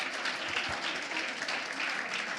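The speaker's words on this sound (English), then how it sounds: "let's give them a warm applause" An audience at an eTwinning education workshop in Prague claps for the winning group. The applause is dense and steady the whole time, at a moderate level.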